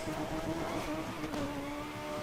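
A race car in the Need for Speed video game slides sideways through a turn, its engine holding a steady high whine while the tires hiss and squeal faintly, continuous and close.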